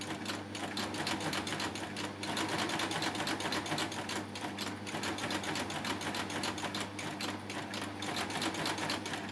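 A coverstitch sewing machine runs steadily as it stitches a lap seam through a folder attachment, a close, continuous rapid mechanical chatter with no talking.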